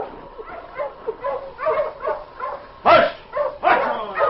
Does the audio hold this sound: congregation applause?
no